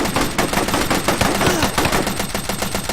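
Dense, sustained machine-gun and rifle fire rattles continuously in a Men of War: Red Tide battle, rapid overlapping bursts with no pauses, loud and close throughout.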